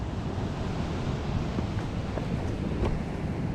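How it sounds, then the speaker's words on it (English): Waves churn in against slippery coastal rocks on the Scottish shore, a steady broadband roar of surf with gusty wind buffeting the microphone throughout, no voices. "the waves is just churning in behind me"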